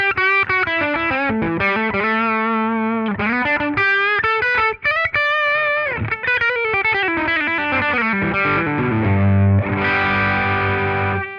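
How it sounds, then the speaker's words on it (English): Electric guitar lead played through a 1965 Fender Deluxe Reverb amp with a Dumble-style overdrive pedal: sustained, singing distorted notes and bends in a flowing phrase, loud and close, ending on ringing chords. "This is where we kick in this dumbler pedal"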